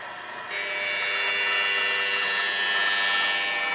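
A skate sharpening machine grinds a high carbon steel figure skate blade with a hollow cut, a steady high-pitched whine that rises sharply after a brief quieter start and holds, loud and close.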